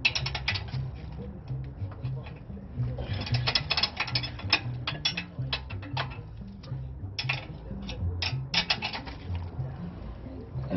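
A ratchet wrench clicks in rapid, steady bursts while tightening a rear brake bolt to torque spec on an Infiniti QX60, close and loud with a low mechanical hum beneath.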